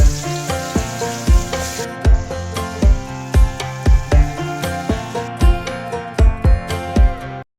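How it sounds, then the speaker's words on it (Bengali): Spice-marinated chicken fries in a hot pan for biryani, with a loud, constant sizzle broken by regular rhythmic clatters of stirring, close up and without talk. "এখন ভাজার পালা, চলেন ভাজি আমরা"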